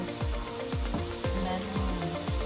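Cumin, fenugreek seeds and ajwain are dropped into hot oil for a keema stew, giving a steady sizzle broken by a regular series of short popping crackles, fairly quiet, with no talking.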